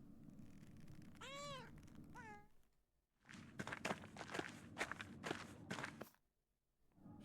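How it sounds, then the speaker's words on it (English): A cat in the video game Pentiment gives two close meows, followed by quick soft footsteps and light tapping, then a short quiet stretch. "How is this cat not chowing down right now?"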